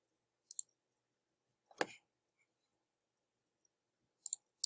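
Computer mouse clicks while working in Google Slides, a few sharp isolated clicks spaced apart in a quiet room, with one louder clack in the middle.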